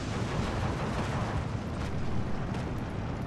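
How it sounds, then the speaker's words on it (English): Steady, dense rumble of mortar fire aimed at an M2 tank in the Steel Division 2 wargame, with muffled thuds and bursts running continuously at a loud level. "My mortars are trying to hit that M2, it appears."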